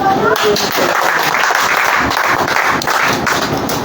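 A church congregation claps together in a worship service, dense and loud across the hall, with a voice or two sounding through the clapping.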